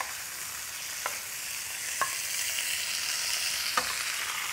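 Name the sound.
meat searing in a hot wok with spattering oil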